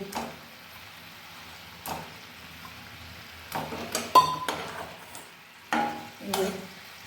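Raw jackfruit koftas go one by one into a simmering gravy in a pan, giving several separate soft plops and stirring clinks over a faint bubbling background, with no voices.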